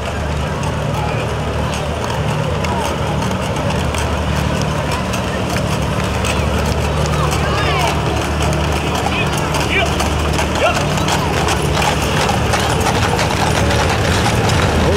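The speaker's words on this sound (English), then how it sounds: "horses coming through" Rhythmic clip-clop of horse hooves on pavement alongside a rumbling engine during a parish festival parade in Freeport, Minnesota, with people talking over the steady traffic noise.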